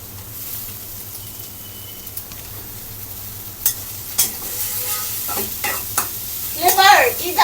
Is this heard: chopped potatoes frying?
yes